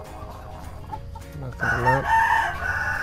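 Imported chickens cluck in a coop, then a rooster crows loudly near the end while someone talks briefly over the birds.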